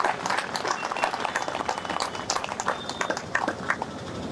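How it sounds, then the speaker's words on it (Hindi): A crowd claps loudly and steadily for several seconds at a political rally during a padyatra march in Ghaziabad, making a dense wash of overlapping hand claps with no clear voices. "जोरदार तालियां इनके लिए बजाइए।"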